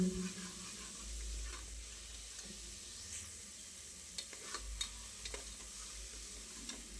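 Onions frying in oil for togarikalu sambar: a soft, steady sizzle throughout, with light scraping stirs and a few small ticks and clinks of a spoon against the pan toward the end, no voices.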